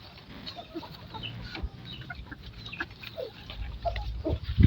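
Hens cluck in scattered bursts while being fed, near and moderately faint, with brief rustles and a heavier thump at the end.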